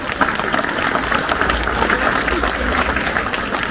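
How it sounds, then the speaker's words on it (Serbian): A crowd of worshippers at a Montenegrin Orthodox Badnjak Christmas Eve gathering in Kotor applauds. The clapping is dense, steady and loud throughout, with no break. "Veliki aplauz za njih."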